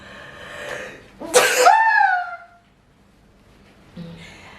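A single loud sneeze bursts out after a short breath in, followed by quiet and a faint bit of speech at the end.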